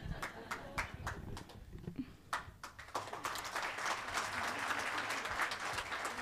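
An audience at an award night gives a few scattered, sharp claps that build into dense, continuous applause. It sounds somewhat distant and faint.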